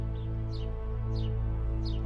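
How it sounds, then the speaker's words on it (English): Small birds chirp outdoors at close range, giving a few brief high tweets about every half second over a steady low hum. "It sounds like there's a bird like above me."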